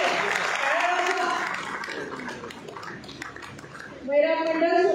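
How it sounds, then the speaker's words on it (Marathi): Applause from an audience at a felicitation ceremony, a spread of many hands clapping that dips, then swells louder near the end, with someone speaking over it through a loudspeaker. "आपलं सहकार्य टाळ्या वाजवा."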